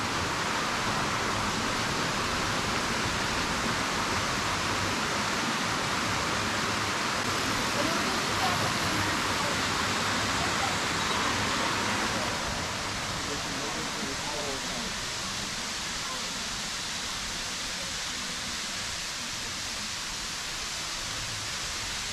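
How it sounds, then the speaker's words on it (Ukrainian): Small waterfalls on a forest mountain river in a park, producing a constant broadband rush of falling water, loud and close at first, then a little softer after the midpoint. "Річка протікає в горах. Ось тобі і водопад."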